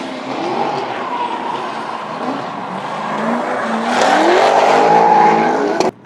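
Drift cars race around a specially built track at an Emirates drift event, engines revving and tires squealing as they slide past, growing louder toward the end.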